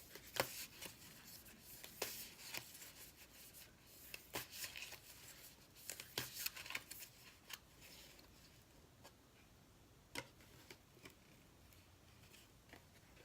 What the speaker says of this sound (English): I'm going to pull out 2 more cards.